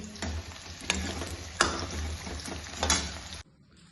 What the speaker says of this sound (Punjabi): ਇੱਕ ਵਾਰ ਚੰਗੀ ਤਰ੍ਹਾਂ ਭੁੰਨ ਕੇ